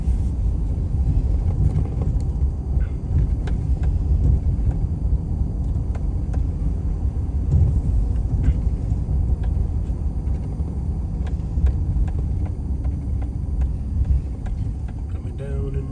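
Car driving through the streets of Hattiesburg, Mississippi, with a steady low engine and road rumble from inside the cabin and some wind buffeting, continuous throughout with faint voices now and then.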